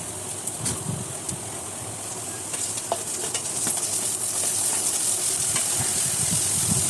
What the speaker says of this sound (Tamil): வெங்காயம் கொஞ்சம் வதங்கி வரும்போது கூடவே நறுக்கி வச்சுருக்கிற தக்காளியும் போட்டு நல்லா வதக்கி